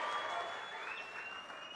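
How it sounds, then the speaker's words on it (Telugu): Crowd clapping at a political rally, a steady dense wash of many hands applauding together at moderate distance, holding even for the whole stretch. "గట్టిగా చప్పట్లు కూడా చెప్పండి"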